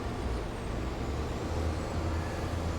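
Loud truck in the Farming Simulator 22 video game, a steady heavy engine rumble with a hissing air brake, continuous and close throughout.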